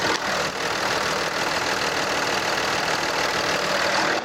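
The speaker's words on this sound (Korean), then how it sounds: "엔진룸 열어놨는데요 엔진 소리 한번 들려드릴게요" A Kia Mohave 3.0 diesel V6 engine idles steadily at close range with the engine bay open, a constant low rumble and whir with no speech.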